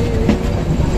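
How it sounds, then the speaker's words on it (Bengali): The Lalmoni Express bound for Dhaka begins rolling again after a crossing stop, heard from inside as a loud, steady rumble of wheels and carriages with light clatter and no voices. "ট্রেন চলতে শুরু করেছে আমরা যাচ্ছি"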